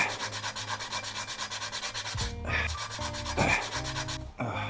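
Rusty car water pump, sprayed with multi-purpose lubricant, sanded by hand during reassembly of a 2014 Scion tC: steady rhythmic back-and-forth rubbing strokes, close and fairly loud, with brief pauses and shifts in pace.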